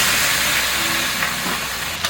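Fish bones and heads sizzle loudly in hot oil in a wok with ginger slices and a splash of cooking wine, a steady, close frying hiss that flares briefly near the end.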